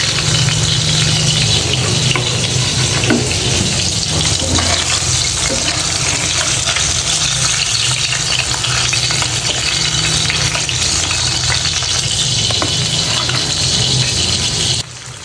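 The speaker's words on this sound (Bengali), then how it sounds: "বাকি মাছগুলো এখানে আমি ভেজে নিচ্ছি।" Pabda fish frying in hot oil in a pan, giving a loud, continuous crackling sizzle that holds steady throughout, close to the pan and with no talking.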